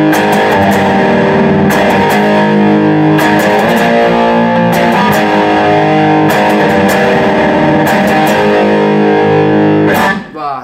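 Distorted electric guitar plays a repeating chord progression for a worship song, full and loud with steady rhythmic strums, ringing out alone before cutting off near the end.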